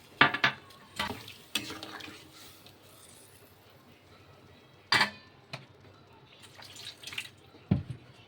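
Ground mustard paste going into a simmering bitter vegetable curry with water, followed by irregular stirring clatters and scrapes against the pot under a quiet bubbling background.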